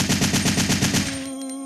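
Rapid automatic fire from Jill's gun in the video game Resident Evil 3, a steady burst of about ten evenly spaced shots lasting roughly a second, then a lingering electronic tone as the firing stops.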